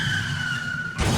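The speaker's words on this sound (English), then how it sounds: "a stock car crash sounds" A stock car skids with a sustained tire squeal in a video game, ending abruptly in a brief impact burst after about a second.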